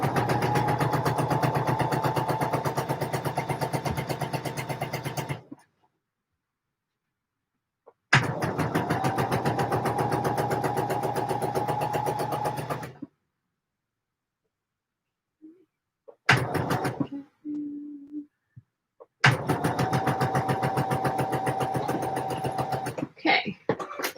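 Sewing machine stitching a seam on a Vogue 9345 garment in three long rapid bursts separated by silences, with a brief handling noise and a tone between the second and third bursts.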